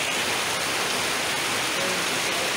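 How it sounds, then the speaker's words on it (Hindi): Heavy rain pouring outside court premises in a steady, dense, loud hiss with no breaks and no voices. "आज तो बारिश बहुत खतरनाक है भाई"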